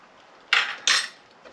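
Small spoon clinks twice against a pot of lemony Greek-style orzo, bright and close, followed by a faint third tap.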